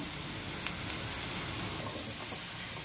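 Peanuts and banana fry in a pan for a fasting meal, a steady close sizzle with a soft crackle throughout and no talking.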